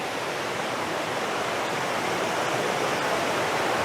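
A waterfall roaring in a steady, dense wash of falling water, constant and fairly loud, with no voices or other sounds.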